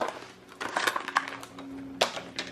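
Ice cubes dropped into a cocktail glass over peaches, a few close clinks and rattles in quick succession, fairly soft with a brief louder clatter near the end.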